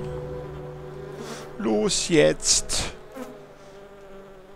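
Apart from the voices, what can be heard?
fly buzzing while flying in the video game The Plan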